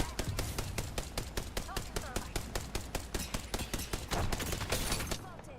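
Rapid, evenly spaced bursts of automatic gunfire in a battle royale video game, loud and continuous for several seconds before trailing off, with players' voices talking underneath.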